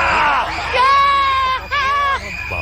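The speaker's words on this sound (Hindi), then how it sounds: "क्या हाई पिच की चीख है, चिमगादड़े भाग जाएंगे चीख सुन के" A game show contestant on Takeshi's Castle lets out loud, piercing, high-pitched screams in several rising and falling bursts, with crowd noise underneath.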